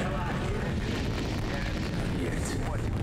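Rocket launch in Call of Duty Black Ops, a sustained roaring, rumbling blast that fills the whole moment with broad thunderous noise.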